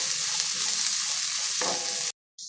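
Capsicum frying in a pan with vegetables for a veg fried rice with purple cabbage: a continuous bright sizzle with occasional stirring scrapes, close and fairly loud, then a sudden cut to near silence before the sizzle resumes.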